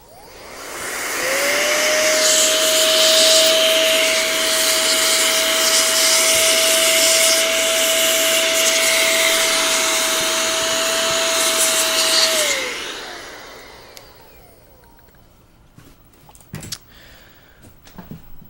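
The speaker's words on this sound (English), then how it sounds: "he was going to blow compressed air on this really quick" Compressed air blasting onto Macintosh Plus computer parts: a loud, steady hiss with a high tonal whistle, held for about eleven seconds and then cut off, followed by quiet clicks and handling noises.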